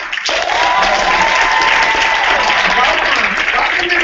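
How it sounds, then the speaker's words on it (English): Sustained audience applause fills the room at a corporate team event, a dense, loud wash of clapping from a large crowd that holds steady for several seconds without pause. "we'll give you a round of applause."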